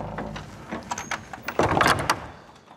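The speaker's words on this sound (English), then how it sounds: "so you've locked the door on me" A heavy door is pulled shut and locked in an old building, with a rattle of handling, a sliding scrape and a louder clunk of the latch, close by.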